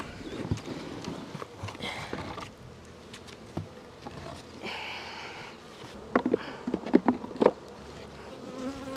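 Honeybees buzz around an opened hive during an inspection, a steady drone of many insects close by with scattered louder passes and some knocking of frames.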